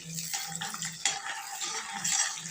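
Charoli nuts fry in a pan for basmati rice payasam, with a soft crackling sizzle and a few light metal clinks of a stirring spoon running through the short stretch, close and moderately loud.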